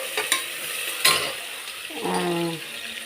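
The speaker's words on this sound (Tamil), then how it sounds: "கருவேப்பிலை இதெல்லாம் போட்டு நல்லா வதக்கிக்கிறேன்" Onions, green chillies, turmeric and curry leaves sautéing in a pan for pepper chicken: a quiet sizzle with a couple of sharp spatula scrapes, followed by a short voice.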